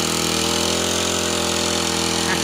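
A lawn mower engine driving a water pump, roaring loud and close in a steady, buzzing high rev that holds constant throughout, with no talking over it.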